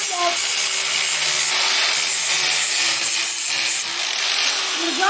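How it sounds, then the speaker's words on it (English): Angle grinder fitted with a sanding disc grinding a hand-forged steel skinning blade, giving a loud, continuous abrasive hiss that holds steady for the whole stretch with only slight dips. "now I'm going to use my angle grinder with a sanding disc"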